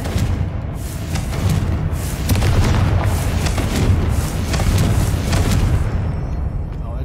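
A fiery Confringo spell explosion in Hogwarts Legacy gives a loud, sustained booming roar with crackling bursts that swells in the middle and fades toward the end.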